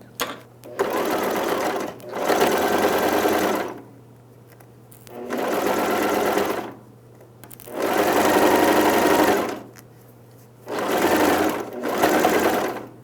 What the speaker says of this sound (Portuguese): E agora sim eu volto aqui para a máquina para a gente continuar costurando.